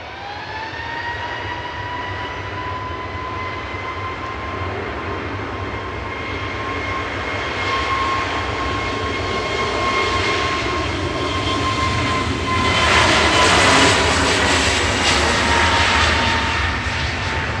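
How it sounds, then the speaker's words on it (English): A heavy airliner arriving at Manchester Airport approaches with a rising engine whine and roar, growing louder and fuller until a broad rush of noise peaks near the end. "The fourth heavy arrival of the morning."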